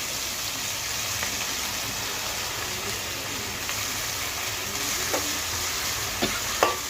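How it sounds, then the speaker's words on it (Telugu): Fenugreek leaves, sesame seeds and green chillies frying together in a pan, a steady dense sizzle with occasional light scrapes and taps of a spoon toward the end, close and continuous with nobody speaking. "ఇప్పుడు ఇవన్నీ కూడా బాగా వేగిపోవాలి. మెంతికూర అండి బాగా ఏగాలి"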